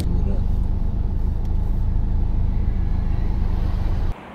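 A Range Rover SVR engine drones steadily from inside or right beside the car, with a thick low-frequency rumble that runs unbroken for about four seconds before abruptly dropping away.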